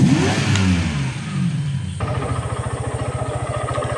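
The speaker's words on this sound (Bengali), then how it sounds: "চলুন এবার আমরা এই বাইকের ইঞ্জিন সাউন্ডটা দেখে নিই।" A motorcycle with an EFI engine and ABS, 10,574 km on the odometer, revs up and then settles into a loud, close, rhythmic thumping idle.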